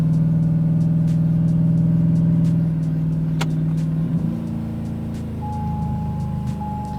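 A cammed LS3 V8 in a Chevy TBSS runs on a dyno in second gear with a loud, steady droning engine note that shifts and eases slightly partway through, with a faint high tone late on.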